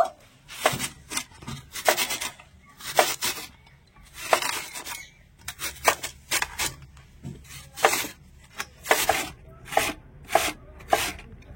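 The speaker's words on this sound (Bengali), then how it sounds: "এবারে আম আমি একটুখানি গ্রেট করে নেব" Raw green mango is rubbed against the large holes of a hand grater in quick rasping strokes, each scrape sharp and close, coming in uneven bursts with brief pauses between them.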